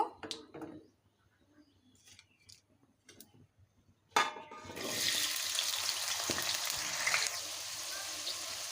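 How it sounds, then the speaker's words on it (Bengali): Potatoes frying in oil in a wok: a few quiet clicks and pops first, then a sudden loud hiss as they hit the oil, settling into a steady close sizzle for the rest. "তেল দিয়ে আলুটাকে ভেজে নেব"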